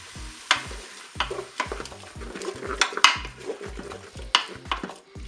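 Raw ham pieces browning in a Cookeo multicooker, with a utensil clattering and scraping against the pot in quick irregular strokes over a light sizzle, close by.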